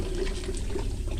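Water poured over tilapia brooders to flush eggs from their mouths during fry harvesting, a steady close splashing pour with broadband wash and low rumble, no voices.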